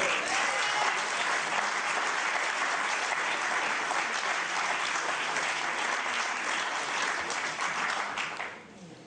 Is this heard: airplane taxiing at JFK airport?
no